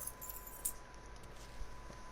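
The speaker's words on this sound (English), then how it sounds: "Lincoln, pick up the keys." Keys jangle briefly and faintly as they are picked up in the video game Mafia 3, a light metallic clink over a quiet room-tone background.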